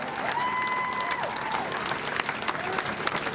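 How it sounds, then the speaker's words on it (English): A crowd at a rally honoring the George Floyd uprising breaks into loud, sustained applause, dense clapping with scattered cheers and a voice briefly mixed in. "So y'all give her a round of applause"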